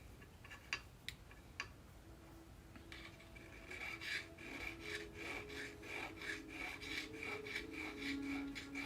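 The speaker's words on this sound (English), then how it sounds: "Once you start sanding," Cedar wood is sanded by hand in a workshop, a soft rasping rub that repeats in uneven strokes, quiet and close, with a few faint clicks early on.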